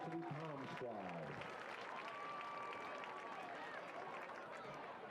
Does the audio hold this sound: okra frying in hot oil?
no